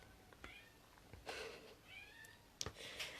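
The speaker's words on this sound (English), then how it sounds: "I can hear my cats meowing" Pet cats meowing indoors, a few quiet, separate cries spread out over a few seconds, heard faintly at a distance behind light background noise.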